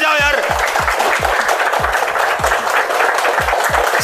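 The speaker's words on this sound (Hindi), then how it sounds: "एक बार दिल से ताली बजाओ यार।" Students clapping in a classroom, with a broad patter of hands under loud, close talk and repeated thumping knocks from nearby.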